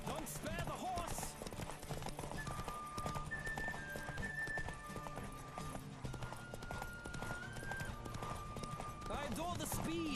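Horse hooves clip-clop steadily at a gallop in The Witcher 3, carried along under music and ambient game sound, with a brief whinny and voices speaking over parts of the ride.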